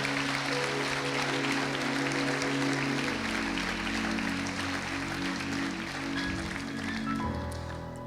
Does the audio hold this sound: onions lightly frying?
no